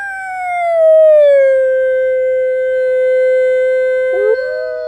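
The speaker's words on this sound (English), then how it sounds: "Once the wolf takes over, it is a sound that stirs the soul, and it is seldom heard in the wild" A wolf at a wolf conservation center lets out a long, loud, sustained howl that slides down in pitch and then holds steady, with a second voice briefly joining near the end, close and clear with no talking.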